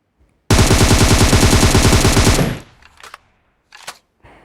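An M762 rifle fires one sustained full-auto spray in a video game, a loud rapid burst lasting about two seconds, followed by a few scattered fainter impacts and clatters.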